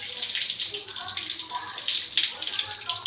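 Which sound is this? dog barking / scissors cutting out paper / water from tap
water from tap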